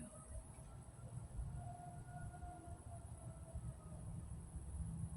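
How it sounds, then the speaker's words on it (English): A faint siren wails in the distance over a steady low rumble of background noise. "I don't know if you heard that, the sirens."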